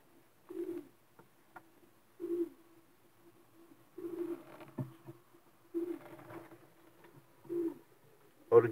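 A female pigeon, a glazer hen, coos softly in a loft, regular low rolling coos repeating about every one and a half seconds, faint and close, with a few quiet rustles between.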